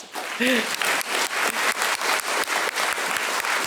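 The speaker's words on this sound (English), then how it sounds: "It's time to applaud." Audience clapping at a State of the City address, a fairly close, rhythmic patter of many hands sustained throughout, with a brief voice heard near the start.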